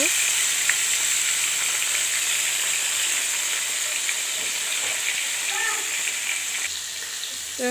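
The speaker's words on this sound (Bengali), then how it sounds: "এইভাবে মাছগুলোকে নুন হলুদ মেখে ভেজে নেব" Katla fish pieces rubbed with salt and turmeric fry in hot oil, making a loud, close, continuous sizzle with faint crackles throughout.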